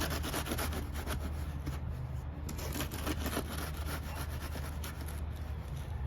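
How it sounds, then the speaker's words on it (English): Steady back-and-forth rubbing and scraping of a screed board drawn across a freshly poured wet concrete slab for an outdoor pool deck, a continuous close rasping sound repeated in a sawing rhythm without talk. "to screed, you're just going to go in a back and forth, almost like a sawing motion, and it's just going to smooth the top of that surface"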